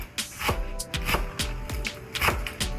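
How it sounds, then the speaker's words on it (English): A knife chops scallions on a board in a home kitchen, a run of sharp, evenly spaced close thuds with brief pauses between strokes, no talking. "I'm just going to go ahead and chop the scallion right now."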